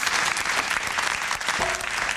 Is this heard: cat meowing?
no